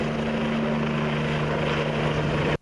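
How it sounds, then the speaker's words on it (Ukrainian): A rescue helicopter during an emergency-services training exercise over a river, its rotor and engine a steady, loud, close drone with a constant low hum, running alone without talk before cutting off abruptly. "на порятунок людей відправили вертоліт з рятувальниками на борту"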